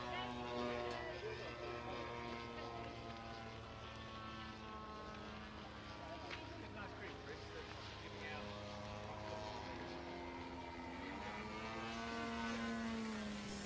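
A model aircraft flying aerobatic manoeuvres at the Woodspring Wing Show, a sustained distant engine drone rising and falling in pitch through a pull-up and roll, with someone talking over it.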